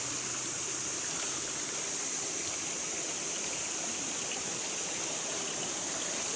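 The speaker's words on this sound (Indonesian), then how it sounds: "di depan ini teman-teman ya, itu ada jalur air" Steady broadband rush of a clear water stream flowing beside the Cisadon hiking trail in Indonesia, a continuous gentle burble with no talking.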